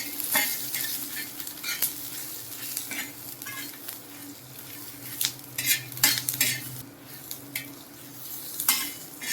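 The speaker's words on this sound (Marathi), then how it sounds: "मिरच्या चांगल्या भाजून घ्यायचं आपल्याला" Green chillies and garlic roasting in a pan for Maharashtrian mirchi thecha: a steady sizzle with repeated scraping strokes of a spoon against the metal, close and fairly loud, no voices.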